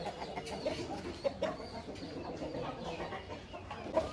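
A heavy, black-feathered Aseel rooster on a farm gives a few faint, scattered clucks against quiet outdoor background noise, with no one speaking.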